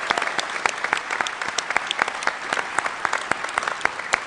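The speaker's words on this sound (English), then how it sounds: "let's have a little round of applause for Mike Salvatore" Audience at Halo Fest applauding steadily, a dense wash of many hands clapping that holds at an even level without pause.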